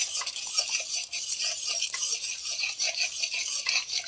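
A spoon stirs Korean chilli garlic sauce with Maggi noodle spices in a pan, giving a steady scraping with light clinks against the metal. The sound is close and continuous for the whole stretch, and nobody speaks.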